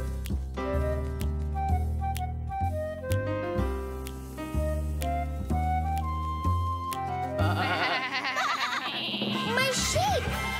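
Cartoon sheep bleat over bright background music in a children's animated show, the wavering calls rising near the end.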